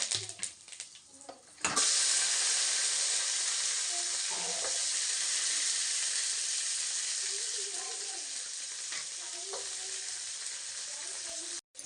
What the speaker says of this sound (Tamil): இப்போ பாருங்கள் வெங்காயம் நல்லா வதங்கிருச்சு